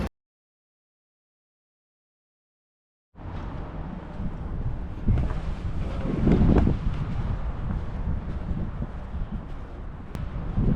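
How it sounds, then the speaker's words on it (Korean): Strong wind buffeting an outdoor microphone in a seaside city, silence first and then a continuous rough roar with gusty surges, no talking. "날이 조금 바람 많이 불어서 좋긴 한데"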